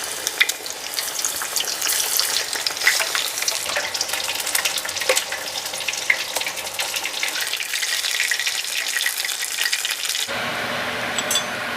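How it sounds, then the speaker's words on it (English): Dredged, battered fish fries in hot oil for a homemade Long John Silver's-style meal, giving a loud, continuous crackling sizzle up close that shifts in tone near the end. "You wanna dredge the fish the same way and add it to your fry oil."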